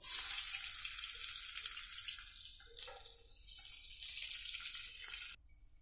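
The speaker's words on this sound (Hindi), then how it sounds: "अब मैं प्याज डालूंगी" Chopped onions hit hot oil in a pan with a loud, bright sizzle. The hiss fades gradually over several seconds and then cuts off abruptly, with no talking.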